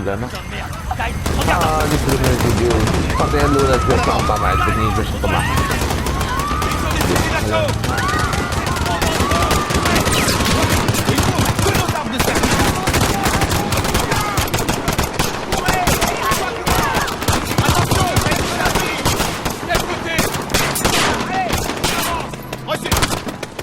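Sustained, rapid automatic gunfire in Call of Duty: Modern Warfare with dense bursts and overlapping shots, loud and continuous, mixed with frantic shouting voices and action noise.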